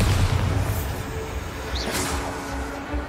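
Bombarda blasting spell from Hogwarts Legacy, a single deep booming explosion with a whooshing burst that rumbles on beneath steady game noise.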